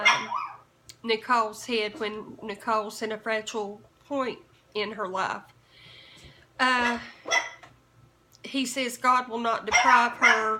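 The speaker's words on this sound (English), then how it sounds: "excuse my dog" A dog barks in short yips and whimpers mixed in under a person talking steadily throughout, the barks brief and partly masked by the speech.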